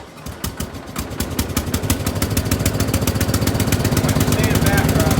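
A lawn mower engine running with the mower deck attached, starting rough and quickly settling into a steady, loud, close rhythmic chugging that holds throughout.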